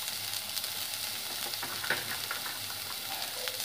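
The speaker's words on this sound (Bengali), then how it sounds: "এবার টমেটোগুলো দিয়ে দিলাম, চেরা কাঁচা লঙ্কাটাও দিয়ে দিচ্ছি" Tomatoes and slit green chilies fry with broccoli in a pan, a dense, even sizzle close up with small crackles and a light stirring scrape partway through.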